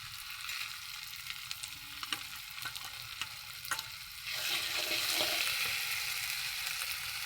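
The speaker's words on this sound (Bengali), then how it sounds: "কিছুক্ষণ নাড়িটা দিয়ে লঙ্কার গুঁড়োটা দিয়ে দিলাম" Meat masala with chili powder stirred in a hot pan, a steady oily sizzle under scraping spoon strokes that swells louder partway through, close and continuous with no talking.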